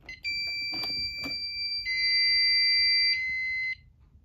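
A Fire-Lite MS-5UD fire alarm system blares loudly during a test with a piercing electronic tone, first in short pulses, then holding one continuous blast before cutting off abruptly at system reset.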